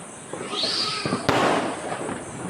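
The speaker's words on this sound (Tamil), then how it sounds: "புளிமத்தாப்பு பிடித்து ராக்கெட் போட்டு எல்லோரும் தீபாவளியை கொண்டாடினர் பாருங்கள்" Diwali firecrackers and rockets going off in a neighbourhood, a whooshing rocket rising and a sharp nearby bang, with crackling bursts over a noisy outdoor backdrop.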